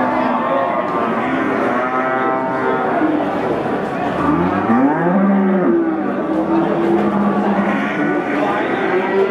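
Pegon cattle moo loudly and close by at a livestock market, several long drawn-out bellows overlapping one another amid background chatter.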